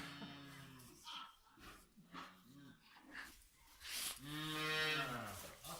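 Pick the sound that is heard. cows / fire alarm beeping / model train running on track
cows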